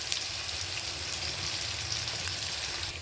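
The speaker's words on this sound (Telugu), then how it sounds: "ఈ తాలింపు పొడి వేసి ఇంకొక 5 నిమిషాలు అట్లాగా ఫ్రై చేసుకున్నాం" Tempering powder fries for brinjal curry in a pan, giving a steady, even sizzle with dense crackle. It stays close and moderately quiet, and no one speaks over it.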